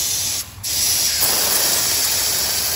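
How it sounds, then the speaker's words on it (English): Compressed air sprays dust off old 1980s Turbo Dodge parts, including a spoiler taken off a Charger, in a loud, close, continuous hiss with a brief dip near the start. "Go ahead and spray the back over there."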